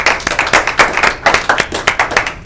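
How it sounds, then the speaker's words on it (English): Applause for a volunteer at a Relay for Life fundraiser event, steady close clapping from a small crowd lasting a couple of seconds. "let's give him a round of applause."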